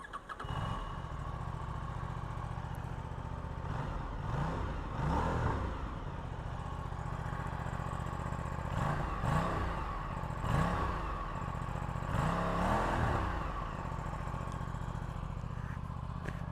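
Aprilia Tuono 457 motorcycle engine running steadily throughout while ridden, a constant low drone with repeated swells as the throttle opens and eases, with brief rising revs between, close and fairly loud with no talk.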